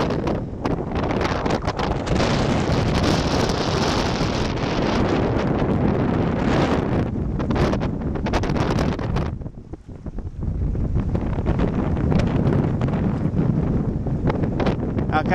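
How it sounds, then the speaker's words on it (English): Strong wind buffets the microphone aboard the sailboat SV Alcina, a loud, continuous roar with gusting swells that drop briefly before returning, probably with water and boat noise mixed in. "it's a bit windy out here"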